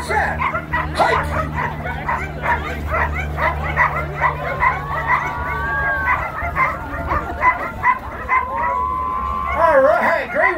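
Dogs bark and yip repeatedly at a skijoring race at a winter festival, where dogs pull skiers down a snowy trail, with a crowd and voices talking throughout.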